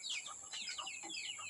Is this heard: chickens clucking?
yes